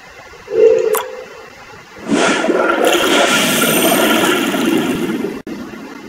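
A water attack effect in the Pokémon TCG video game: a brief tone and splash, then a loud, sustained rushing whoosh of cascading water lasting several seconds before cutting off abruptly, with a softer tail after.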